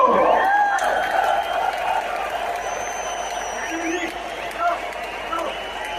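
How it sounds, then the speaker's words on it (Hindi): A standing audience at a 23rd anniversary celebration for an education company applauds loudly, a dense continuous wash of clapping and crowd noise with cheers, while a voice speaks over it. "खड़े होकर जोरदार तालियों से हम सम्मान करेंगे।"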